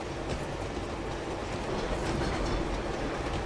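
A train in the Uncharted 2: Among Thieves video game rumbles steadily along the tracks, a loud, dense roar of rolling wheels and rattling carriages with no talking.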